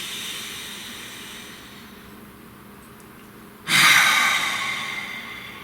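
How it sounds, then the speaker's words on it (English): A single deep breath comes in sharply and loudly up close, then trails off as a slow airy exhale after a quiet pause. "Nice deep breath, please."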